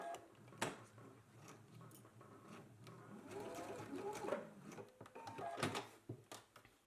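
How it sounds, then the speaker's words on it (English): A sewing machine stitches straps in place with a basting stitch, faint and close, its rapid ticking run rising and falling in short bursts, with a few sharp clicks between. "we can go ahead and baste it in place right along those markings"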